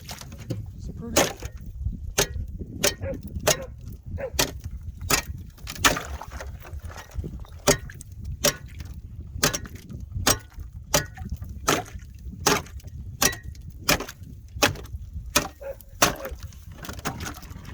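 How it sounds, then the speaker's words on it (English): Ice is chipped outdoors in winter wind, a steady series of sharp chopping strikes repeating every second or so over a rumbling background. "I got that ice chipped."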